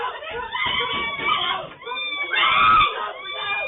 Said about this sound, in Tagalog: Dinig mula sa loob ng bahay ang sunod-sunod na sigaw na humihingi ng saklolo.